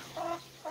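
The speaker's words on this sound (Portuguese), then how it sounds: "O galo já começou a cantar." A rooster on a backyard farm gives two short, nearby clucking, gargling calls separated by a brief pause, fairly quiet and with no talking.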